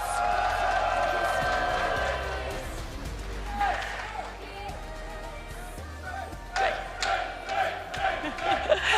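A large audience at a Riftbound card game regional qualifier finals in Bologna cheers, whoops and claps for a special guest, a loud roaring swell that dips and then surges again, with a voice speaking over it.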